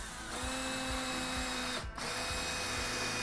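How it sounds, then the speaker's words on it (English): A power drill drives a screw into a pre-drilled hole in wood for a Christmas tree decoration, a close steady motor whine with rhythmic ratcheting pulses and a short dip partway through. "I pre-drilled the hole for the screw, so this should go in pretty easily."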